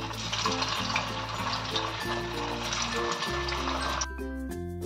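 Sabudana tikki patties fry in hot oil with a steady, continuous sizzle that stays close and even throughout, with a low tonal hum underneath.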